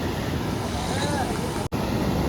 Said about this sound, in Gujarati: આ જુઓ મોજા કેવા ઉભે છે એટલું બધું પાણી છે